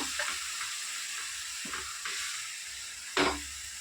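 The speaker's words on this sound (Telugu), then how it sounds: "కొంచెం వేసి ఆలం నెయ్యిలోనే ఫ్రై చేస్తున్నామండి" Raw papaya pieces frying in a small amount of ghee give a steady, soft sizzle, with a few brief stirring scrapes and one sharper clatter near the end, close and moderately quiet with no talk.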